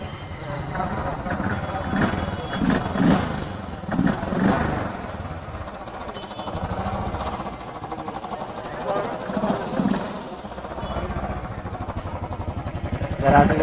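A Royal Enfield Thunderbird 500 motorcycle engine, freshly restarted after two years unused, runs steadily with a low thumping rumble and a light mechanical clatter, close by and continuous throughout.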